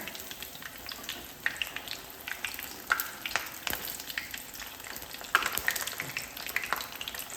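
Vegetable cutlets fry in a pan with a steady, close crackling sizzle that runs throughout, broken by sharper pops and spatters as the pieces are turned; no voices.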